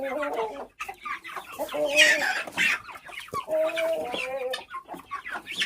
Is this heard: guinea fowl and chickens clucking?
yes